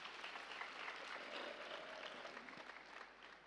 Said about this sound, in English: let's give a big clap to this project once again